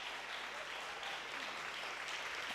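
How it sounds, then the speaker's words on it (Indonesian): A seminar audience at a church youth choir event claps for Mr. Aris in a continuous, even wash of applause. The clapping is soft and somewhat distant, and a faint murmur of voices sits beneath it. "Kita beri tepuk tangan pada Bapak Aris"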